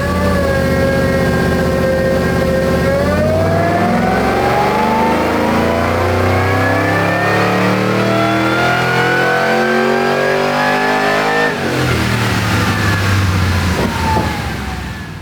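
A supercharged Holden VF SS wagon engine with a TVS2300 blower revs hard on a dyno, pitch climbing steadily through a long loud pull with supercharger whine, then dropping sharply and winding down.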